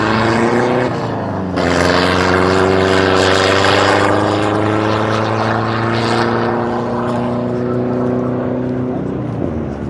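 A vintage American hot rod races past on a Welsh beach at Pendine, its engine roaring up loud and close in a tall gear, holding a long rising drone before fading away.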